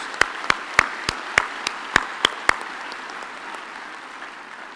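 A handful of loud, evenly spaced claps ring out at a university graduation ceremony in a large hall, about nine sharp slaps in a slow rhythm, then trailing off into quiet room tone.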